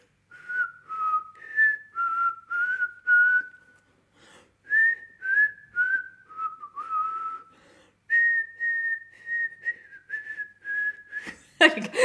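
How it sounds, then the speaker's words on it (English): A person whistles a slow, wistful melody from The Last of Us, clear and close, in phrases of sustained pitched notes separated by short pauses, ending with a brief burst of noise. "That was a little bit of The Last of Us whistled."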